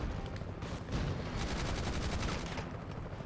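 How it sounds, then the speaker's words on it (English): Gunfire in the Iron Man PSP game, heard as a dense run of rapid automatic bursts, loud and close, crackling continuously over the game's background noise. "Who is shooting at me?"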